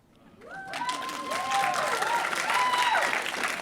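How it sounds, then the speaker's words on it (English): Audience applause at a screening and awards night, a dense wash of clapping that swells and holds steady, with a few whoops and cheers rising over it. "Applause."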